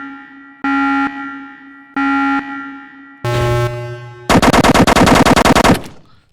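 Video game weapon fire: two short separate buzzing bursts, a third heavier burst, then a long rapid full-auto stream of shots that cuts off and fades.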